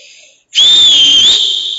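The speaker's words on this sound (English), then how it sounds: "Sometimes I whistle. I can whistle really, really loud." A single loud, piercing whistle starts abruptly after a brief pause and holds a steady high pitch with a slight waver for over a second.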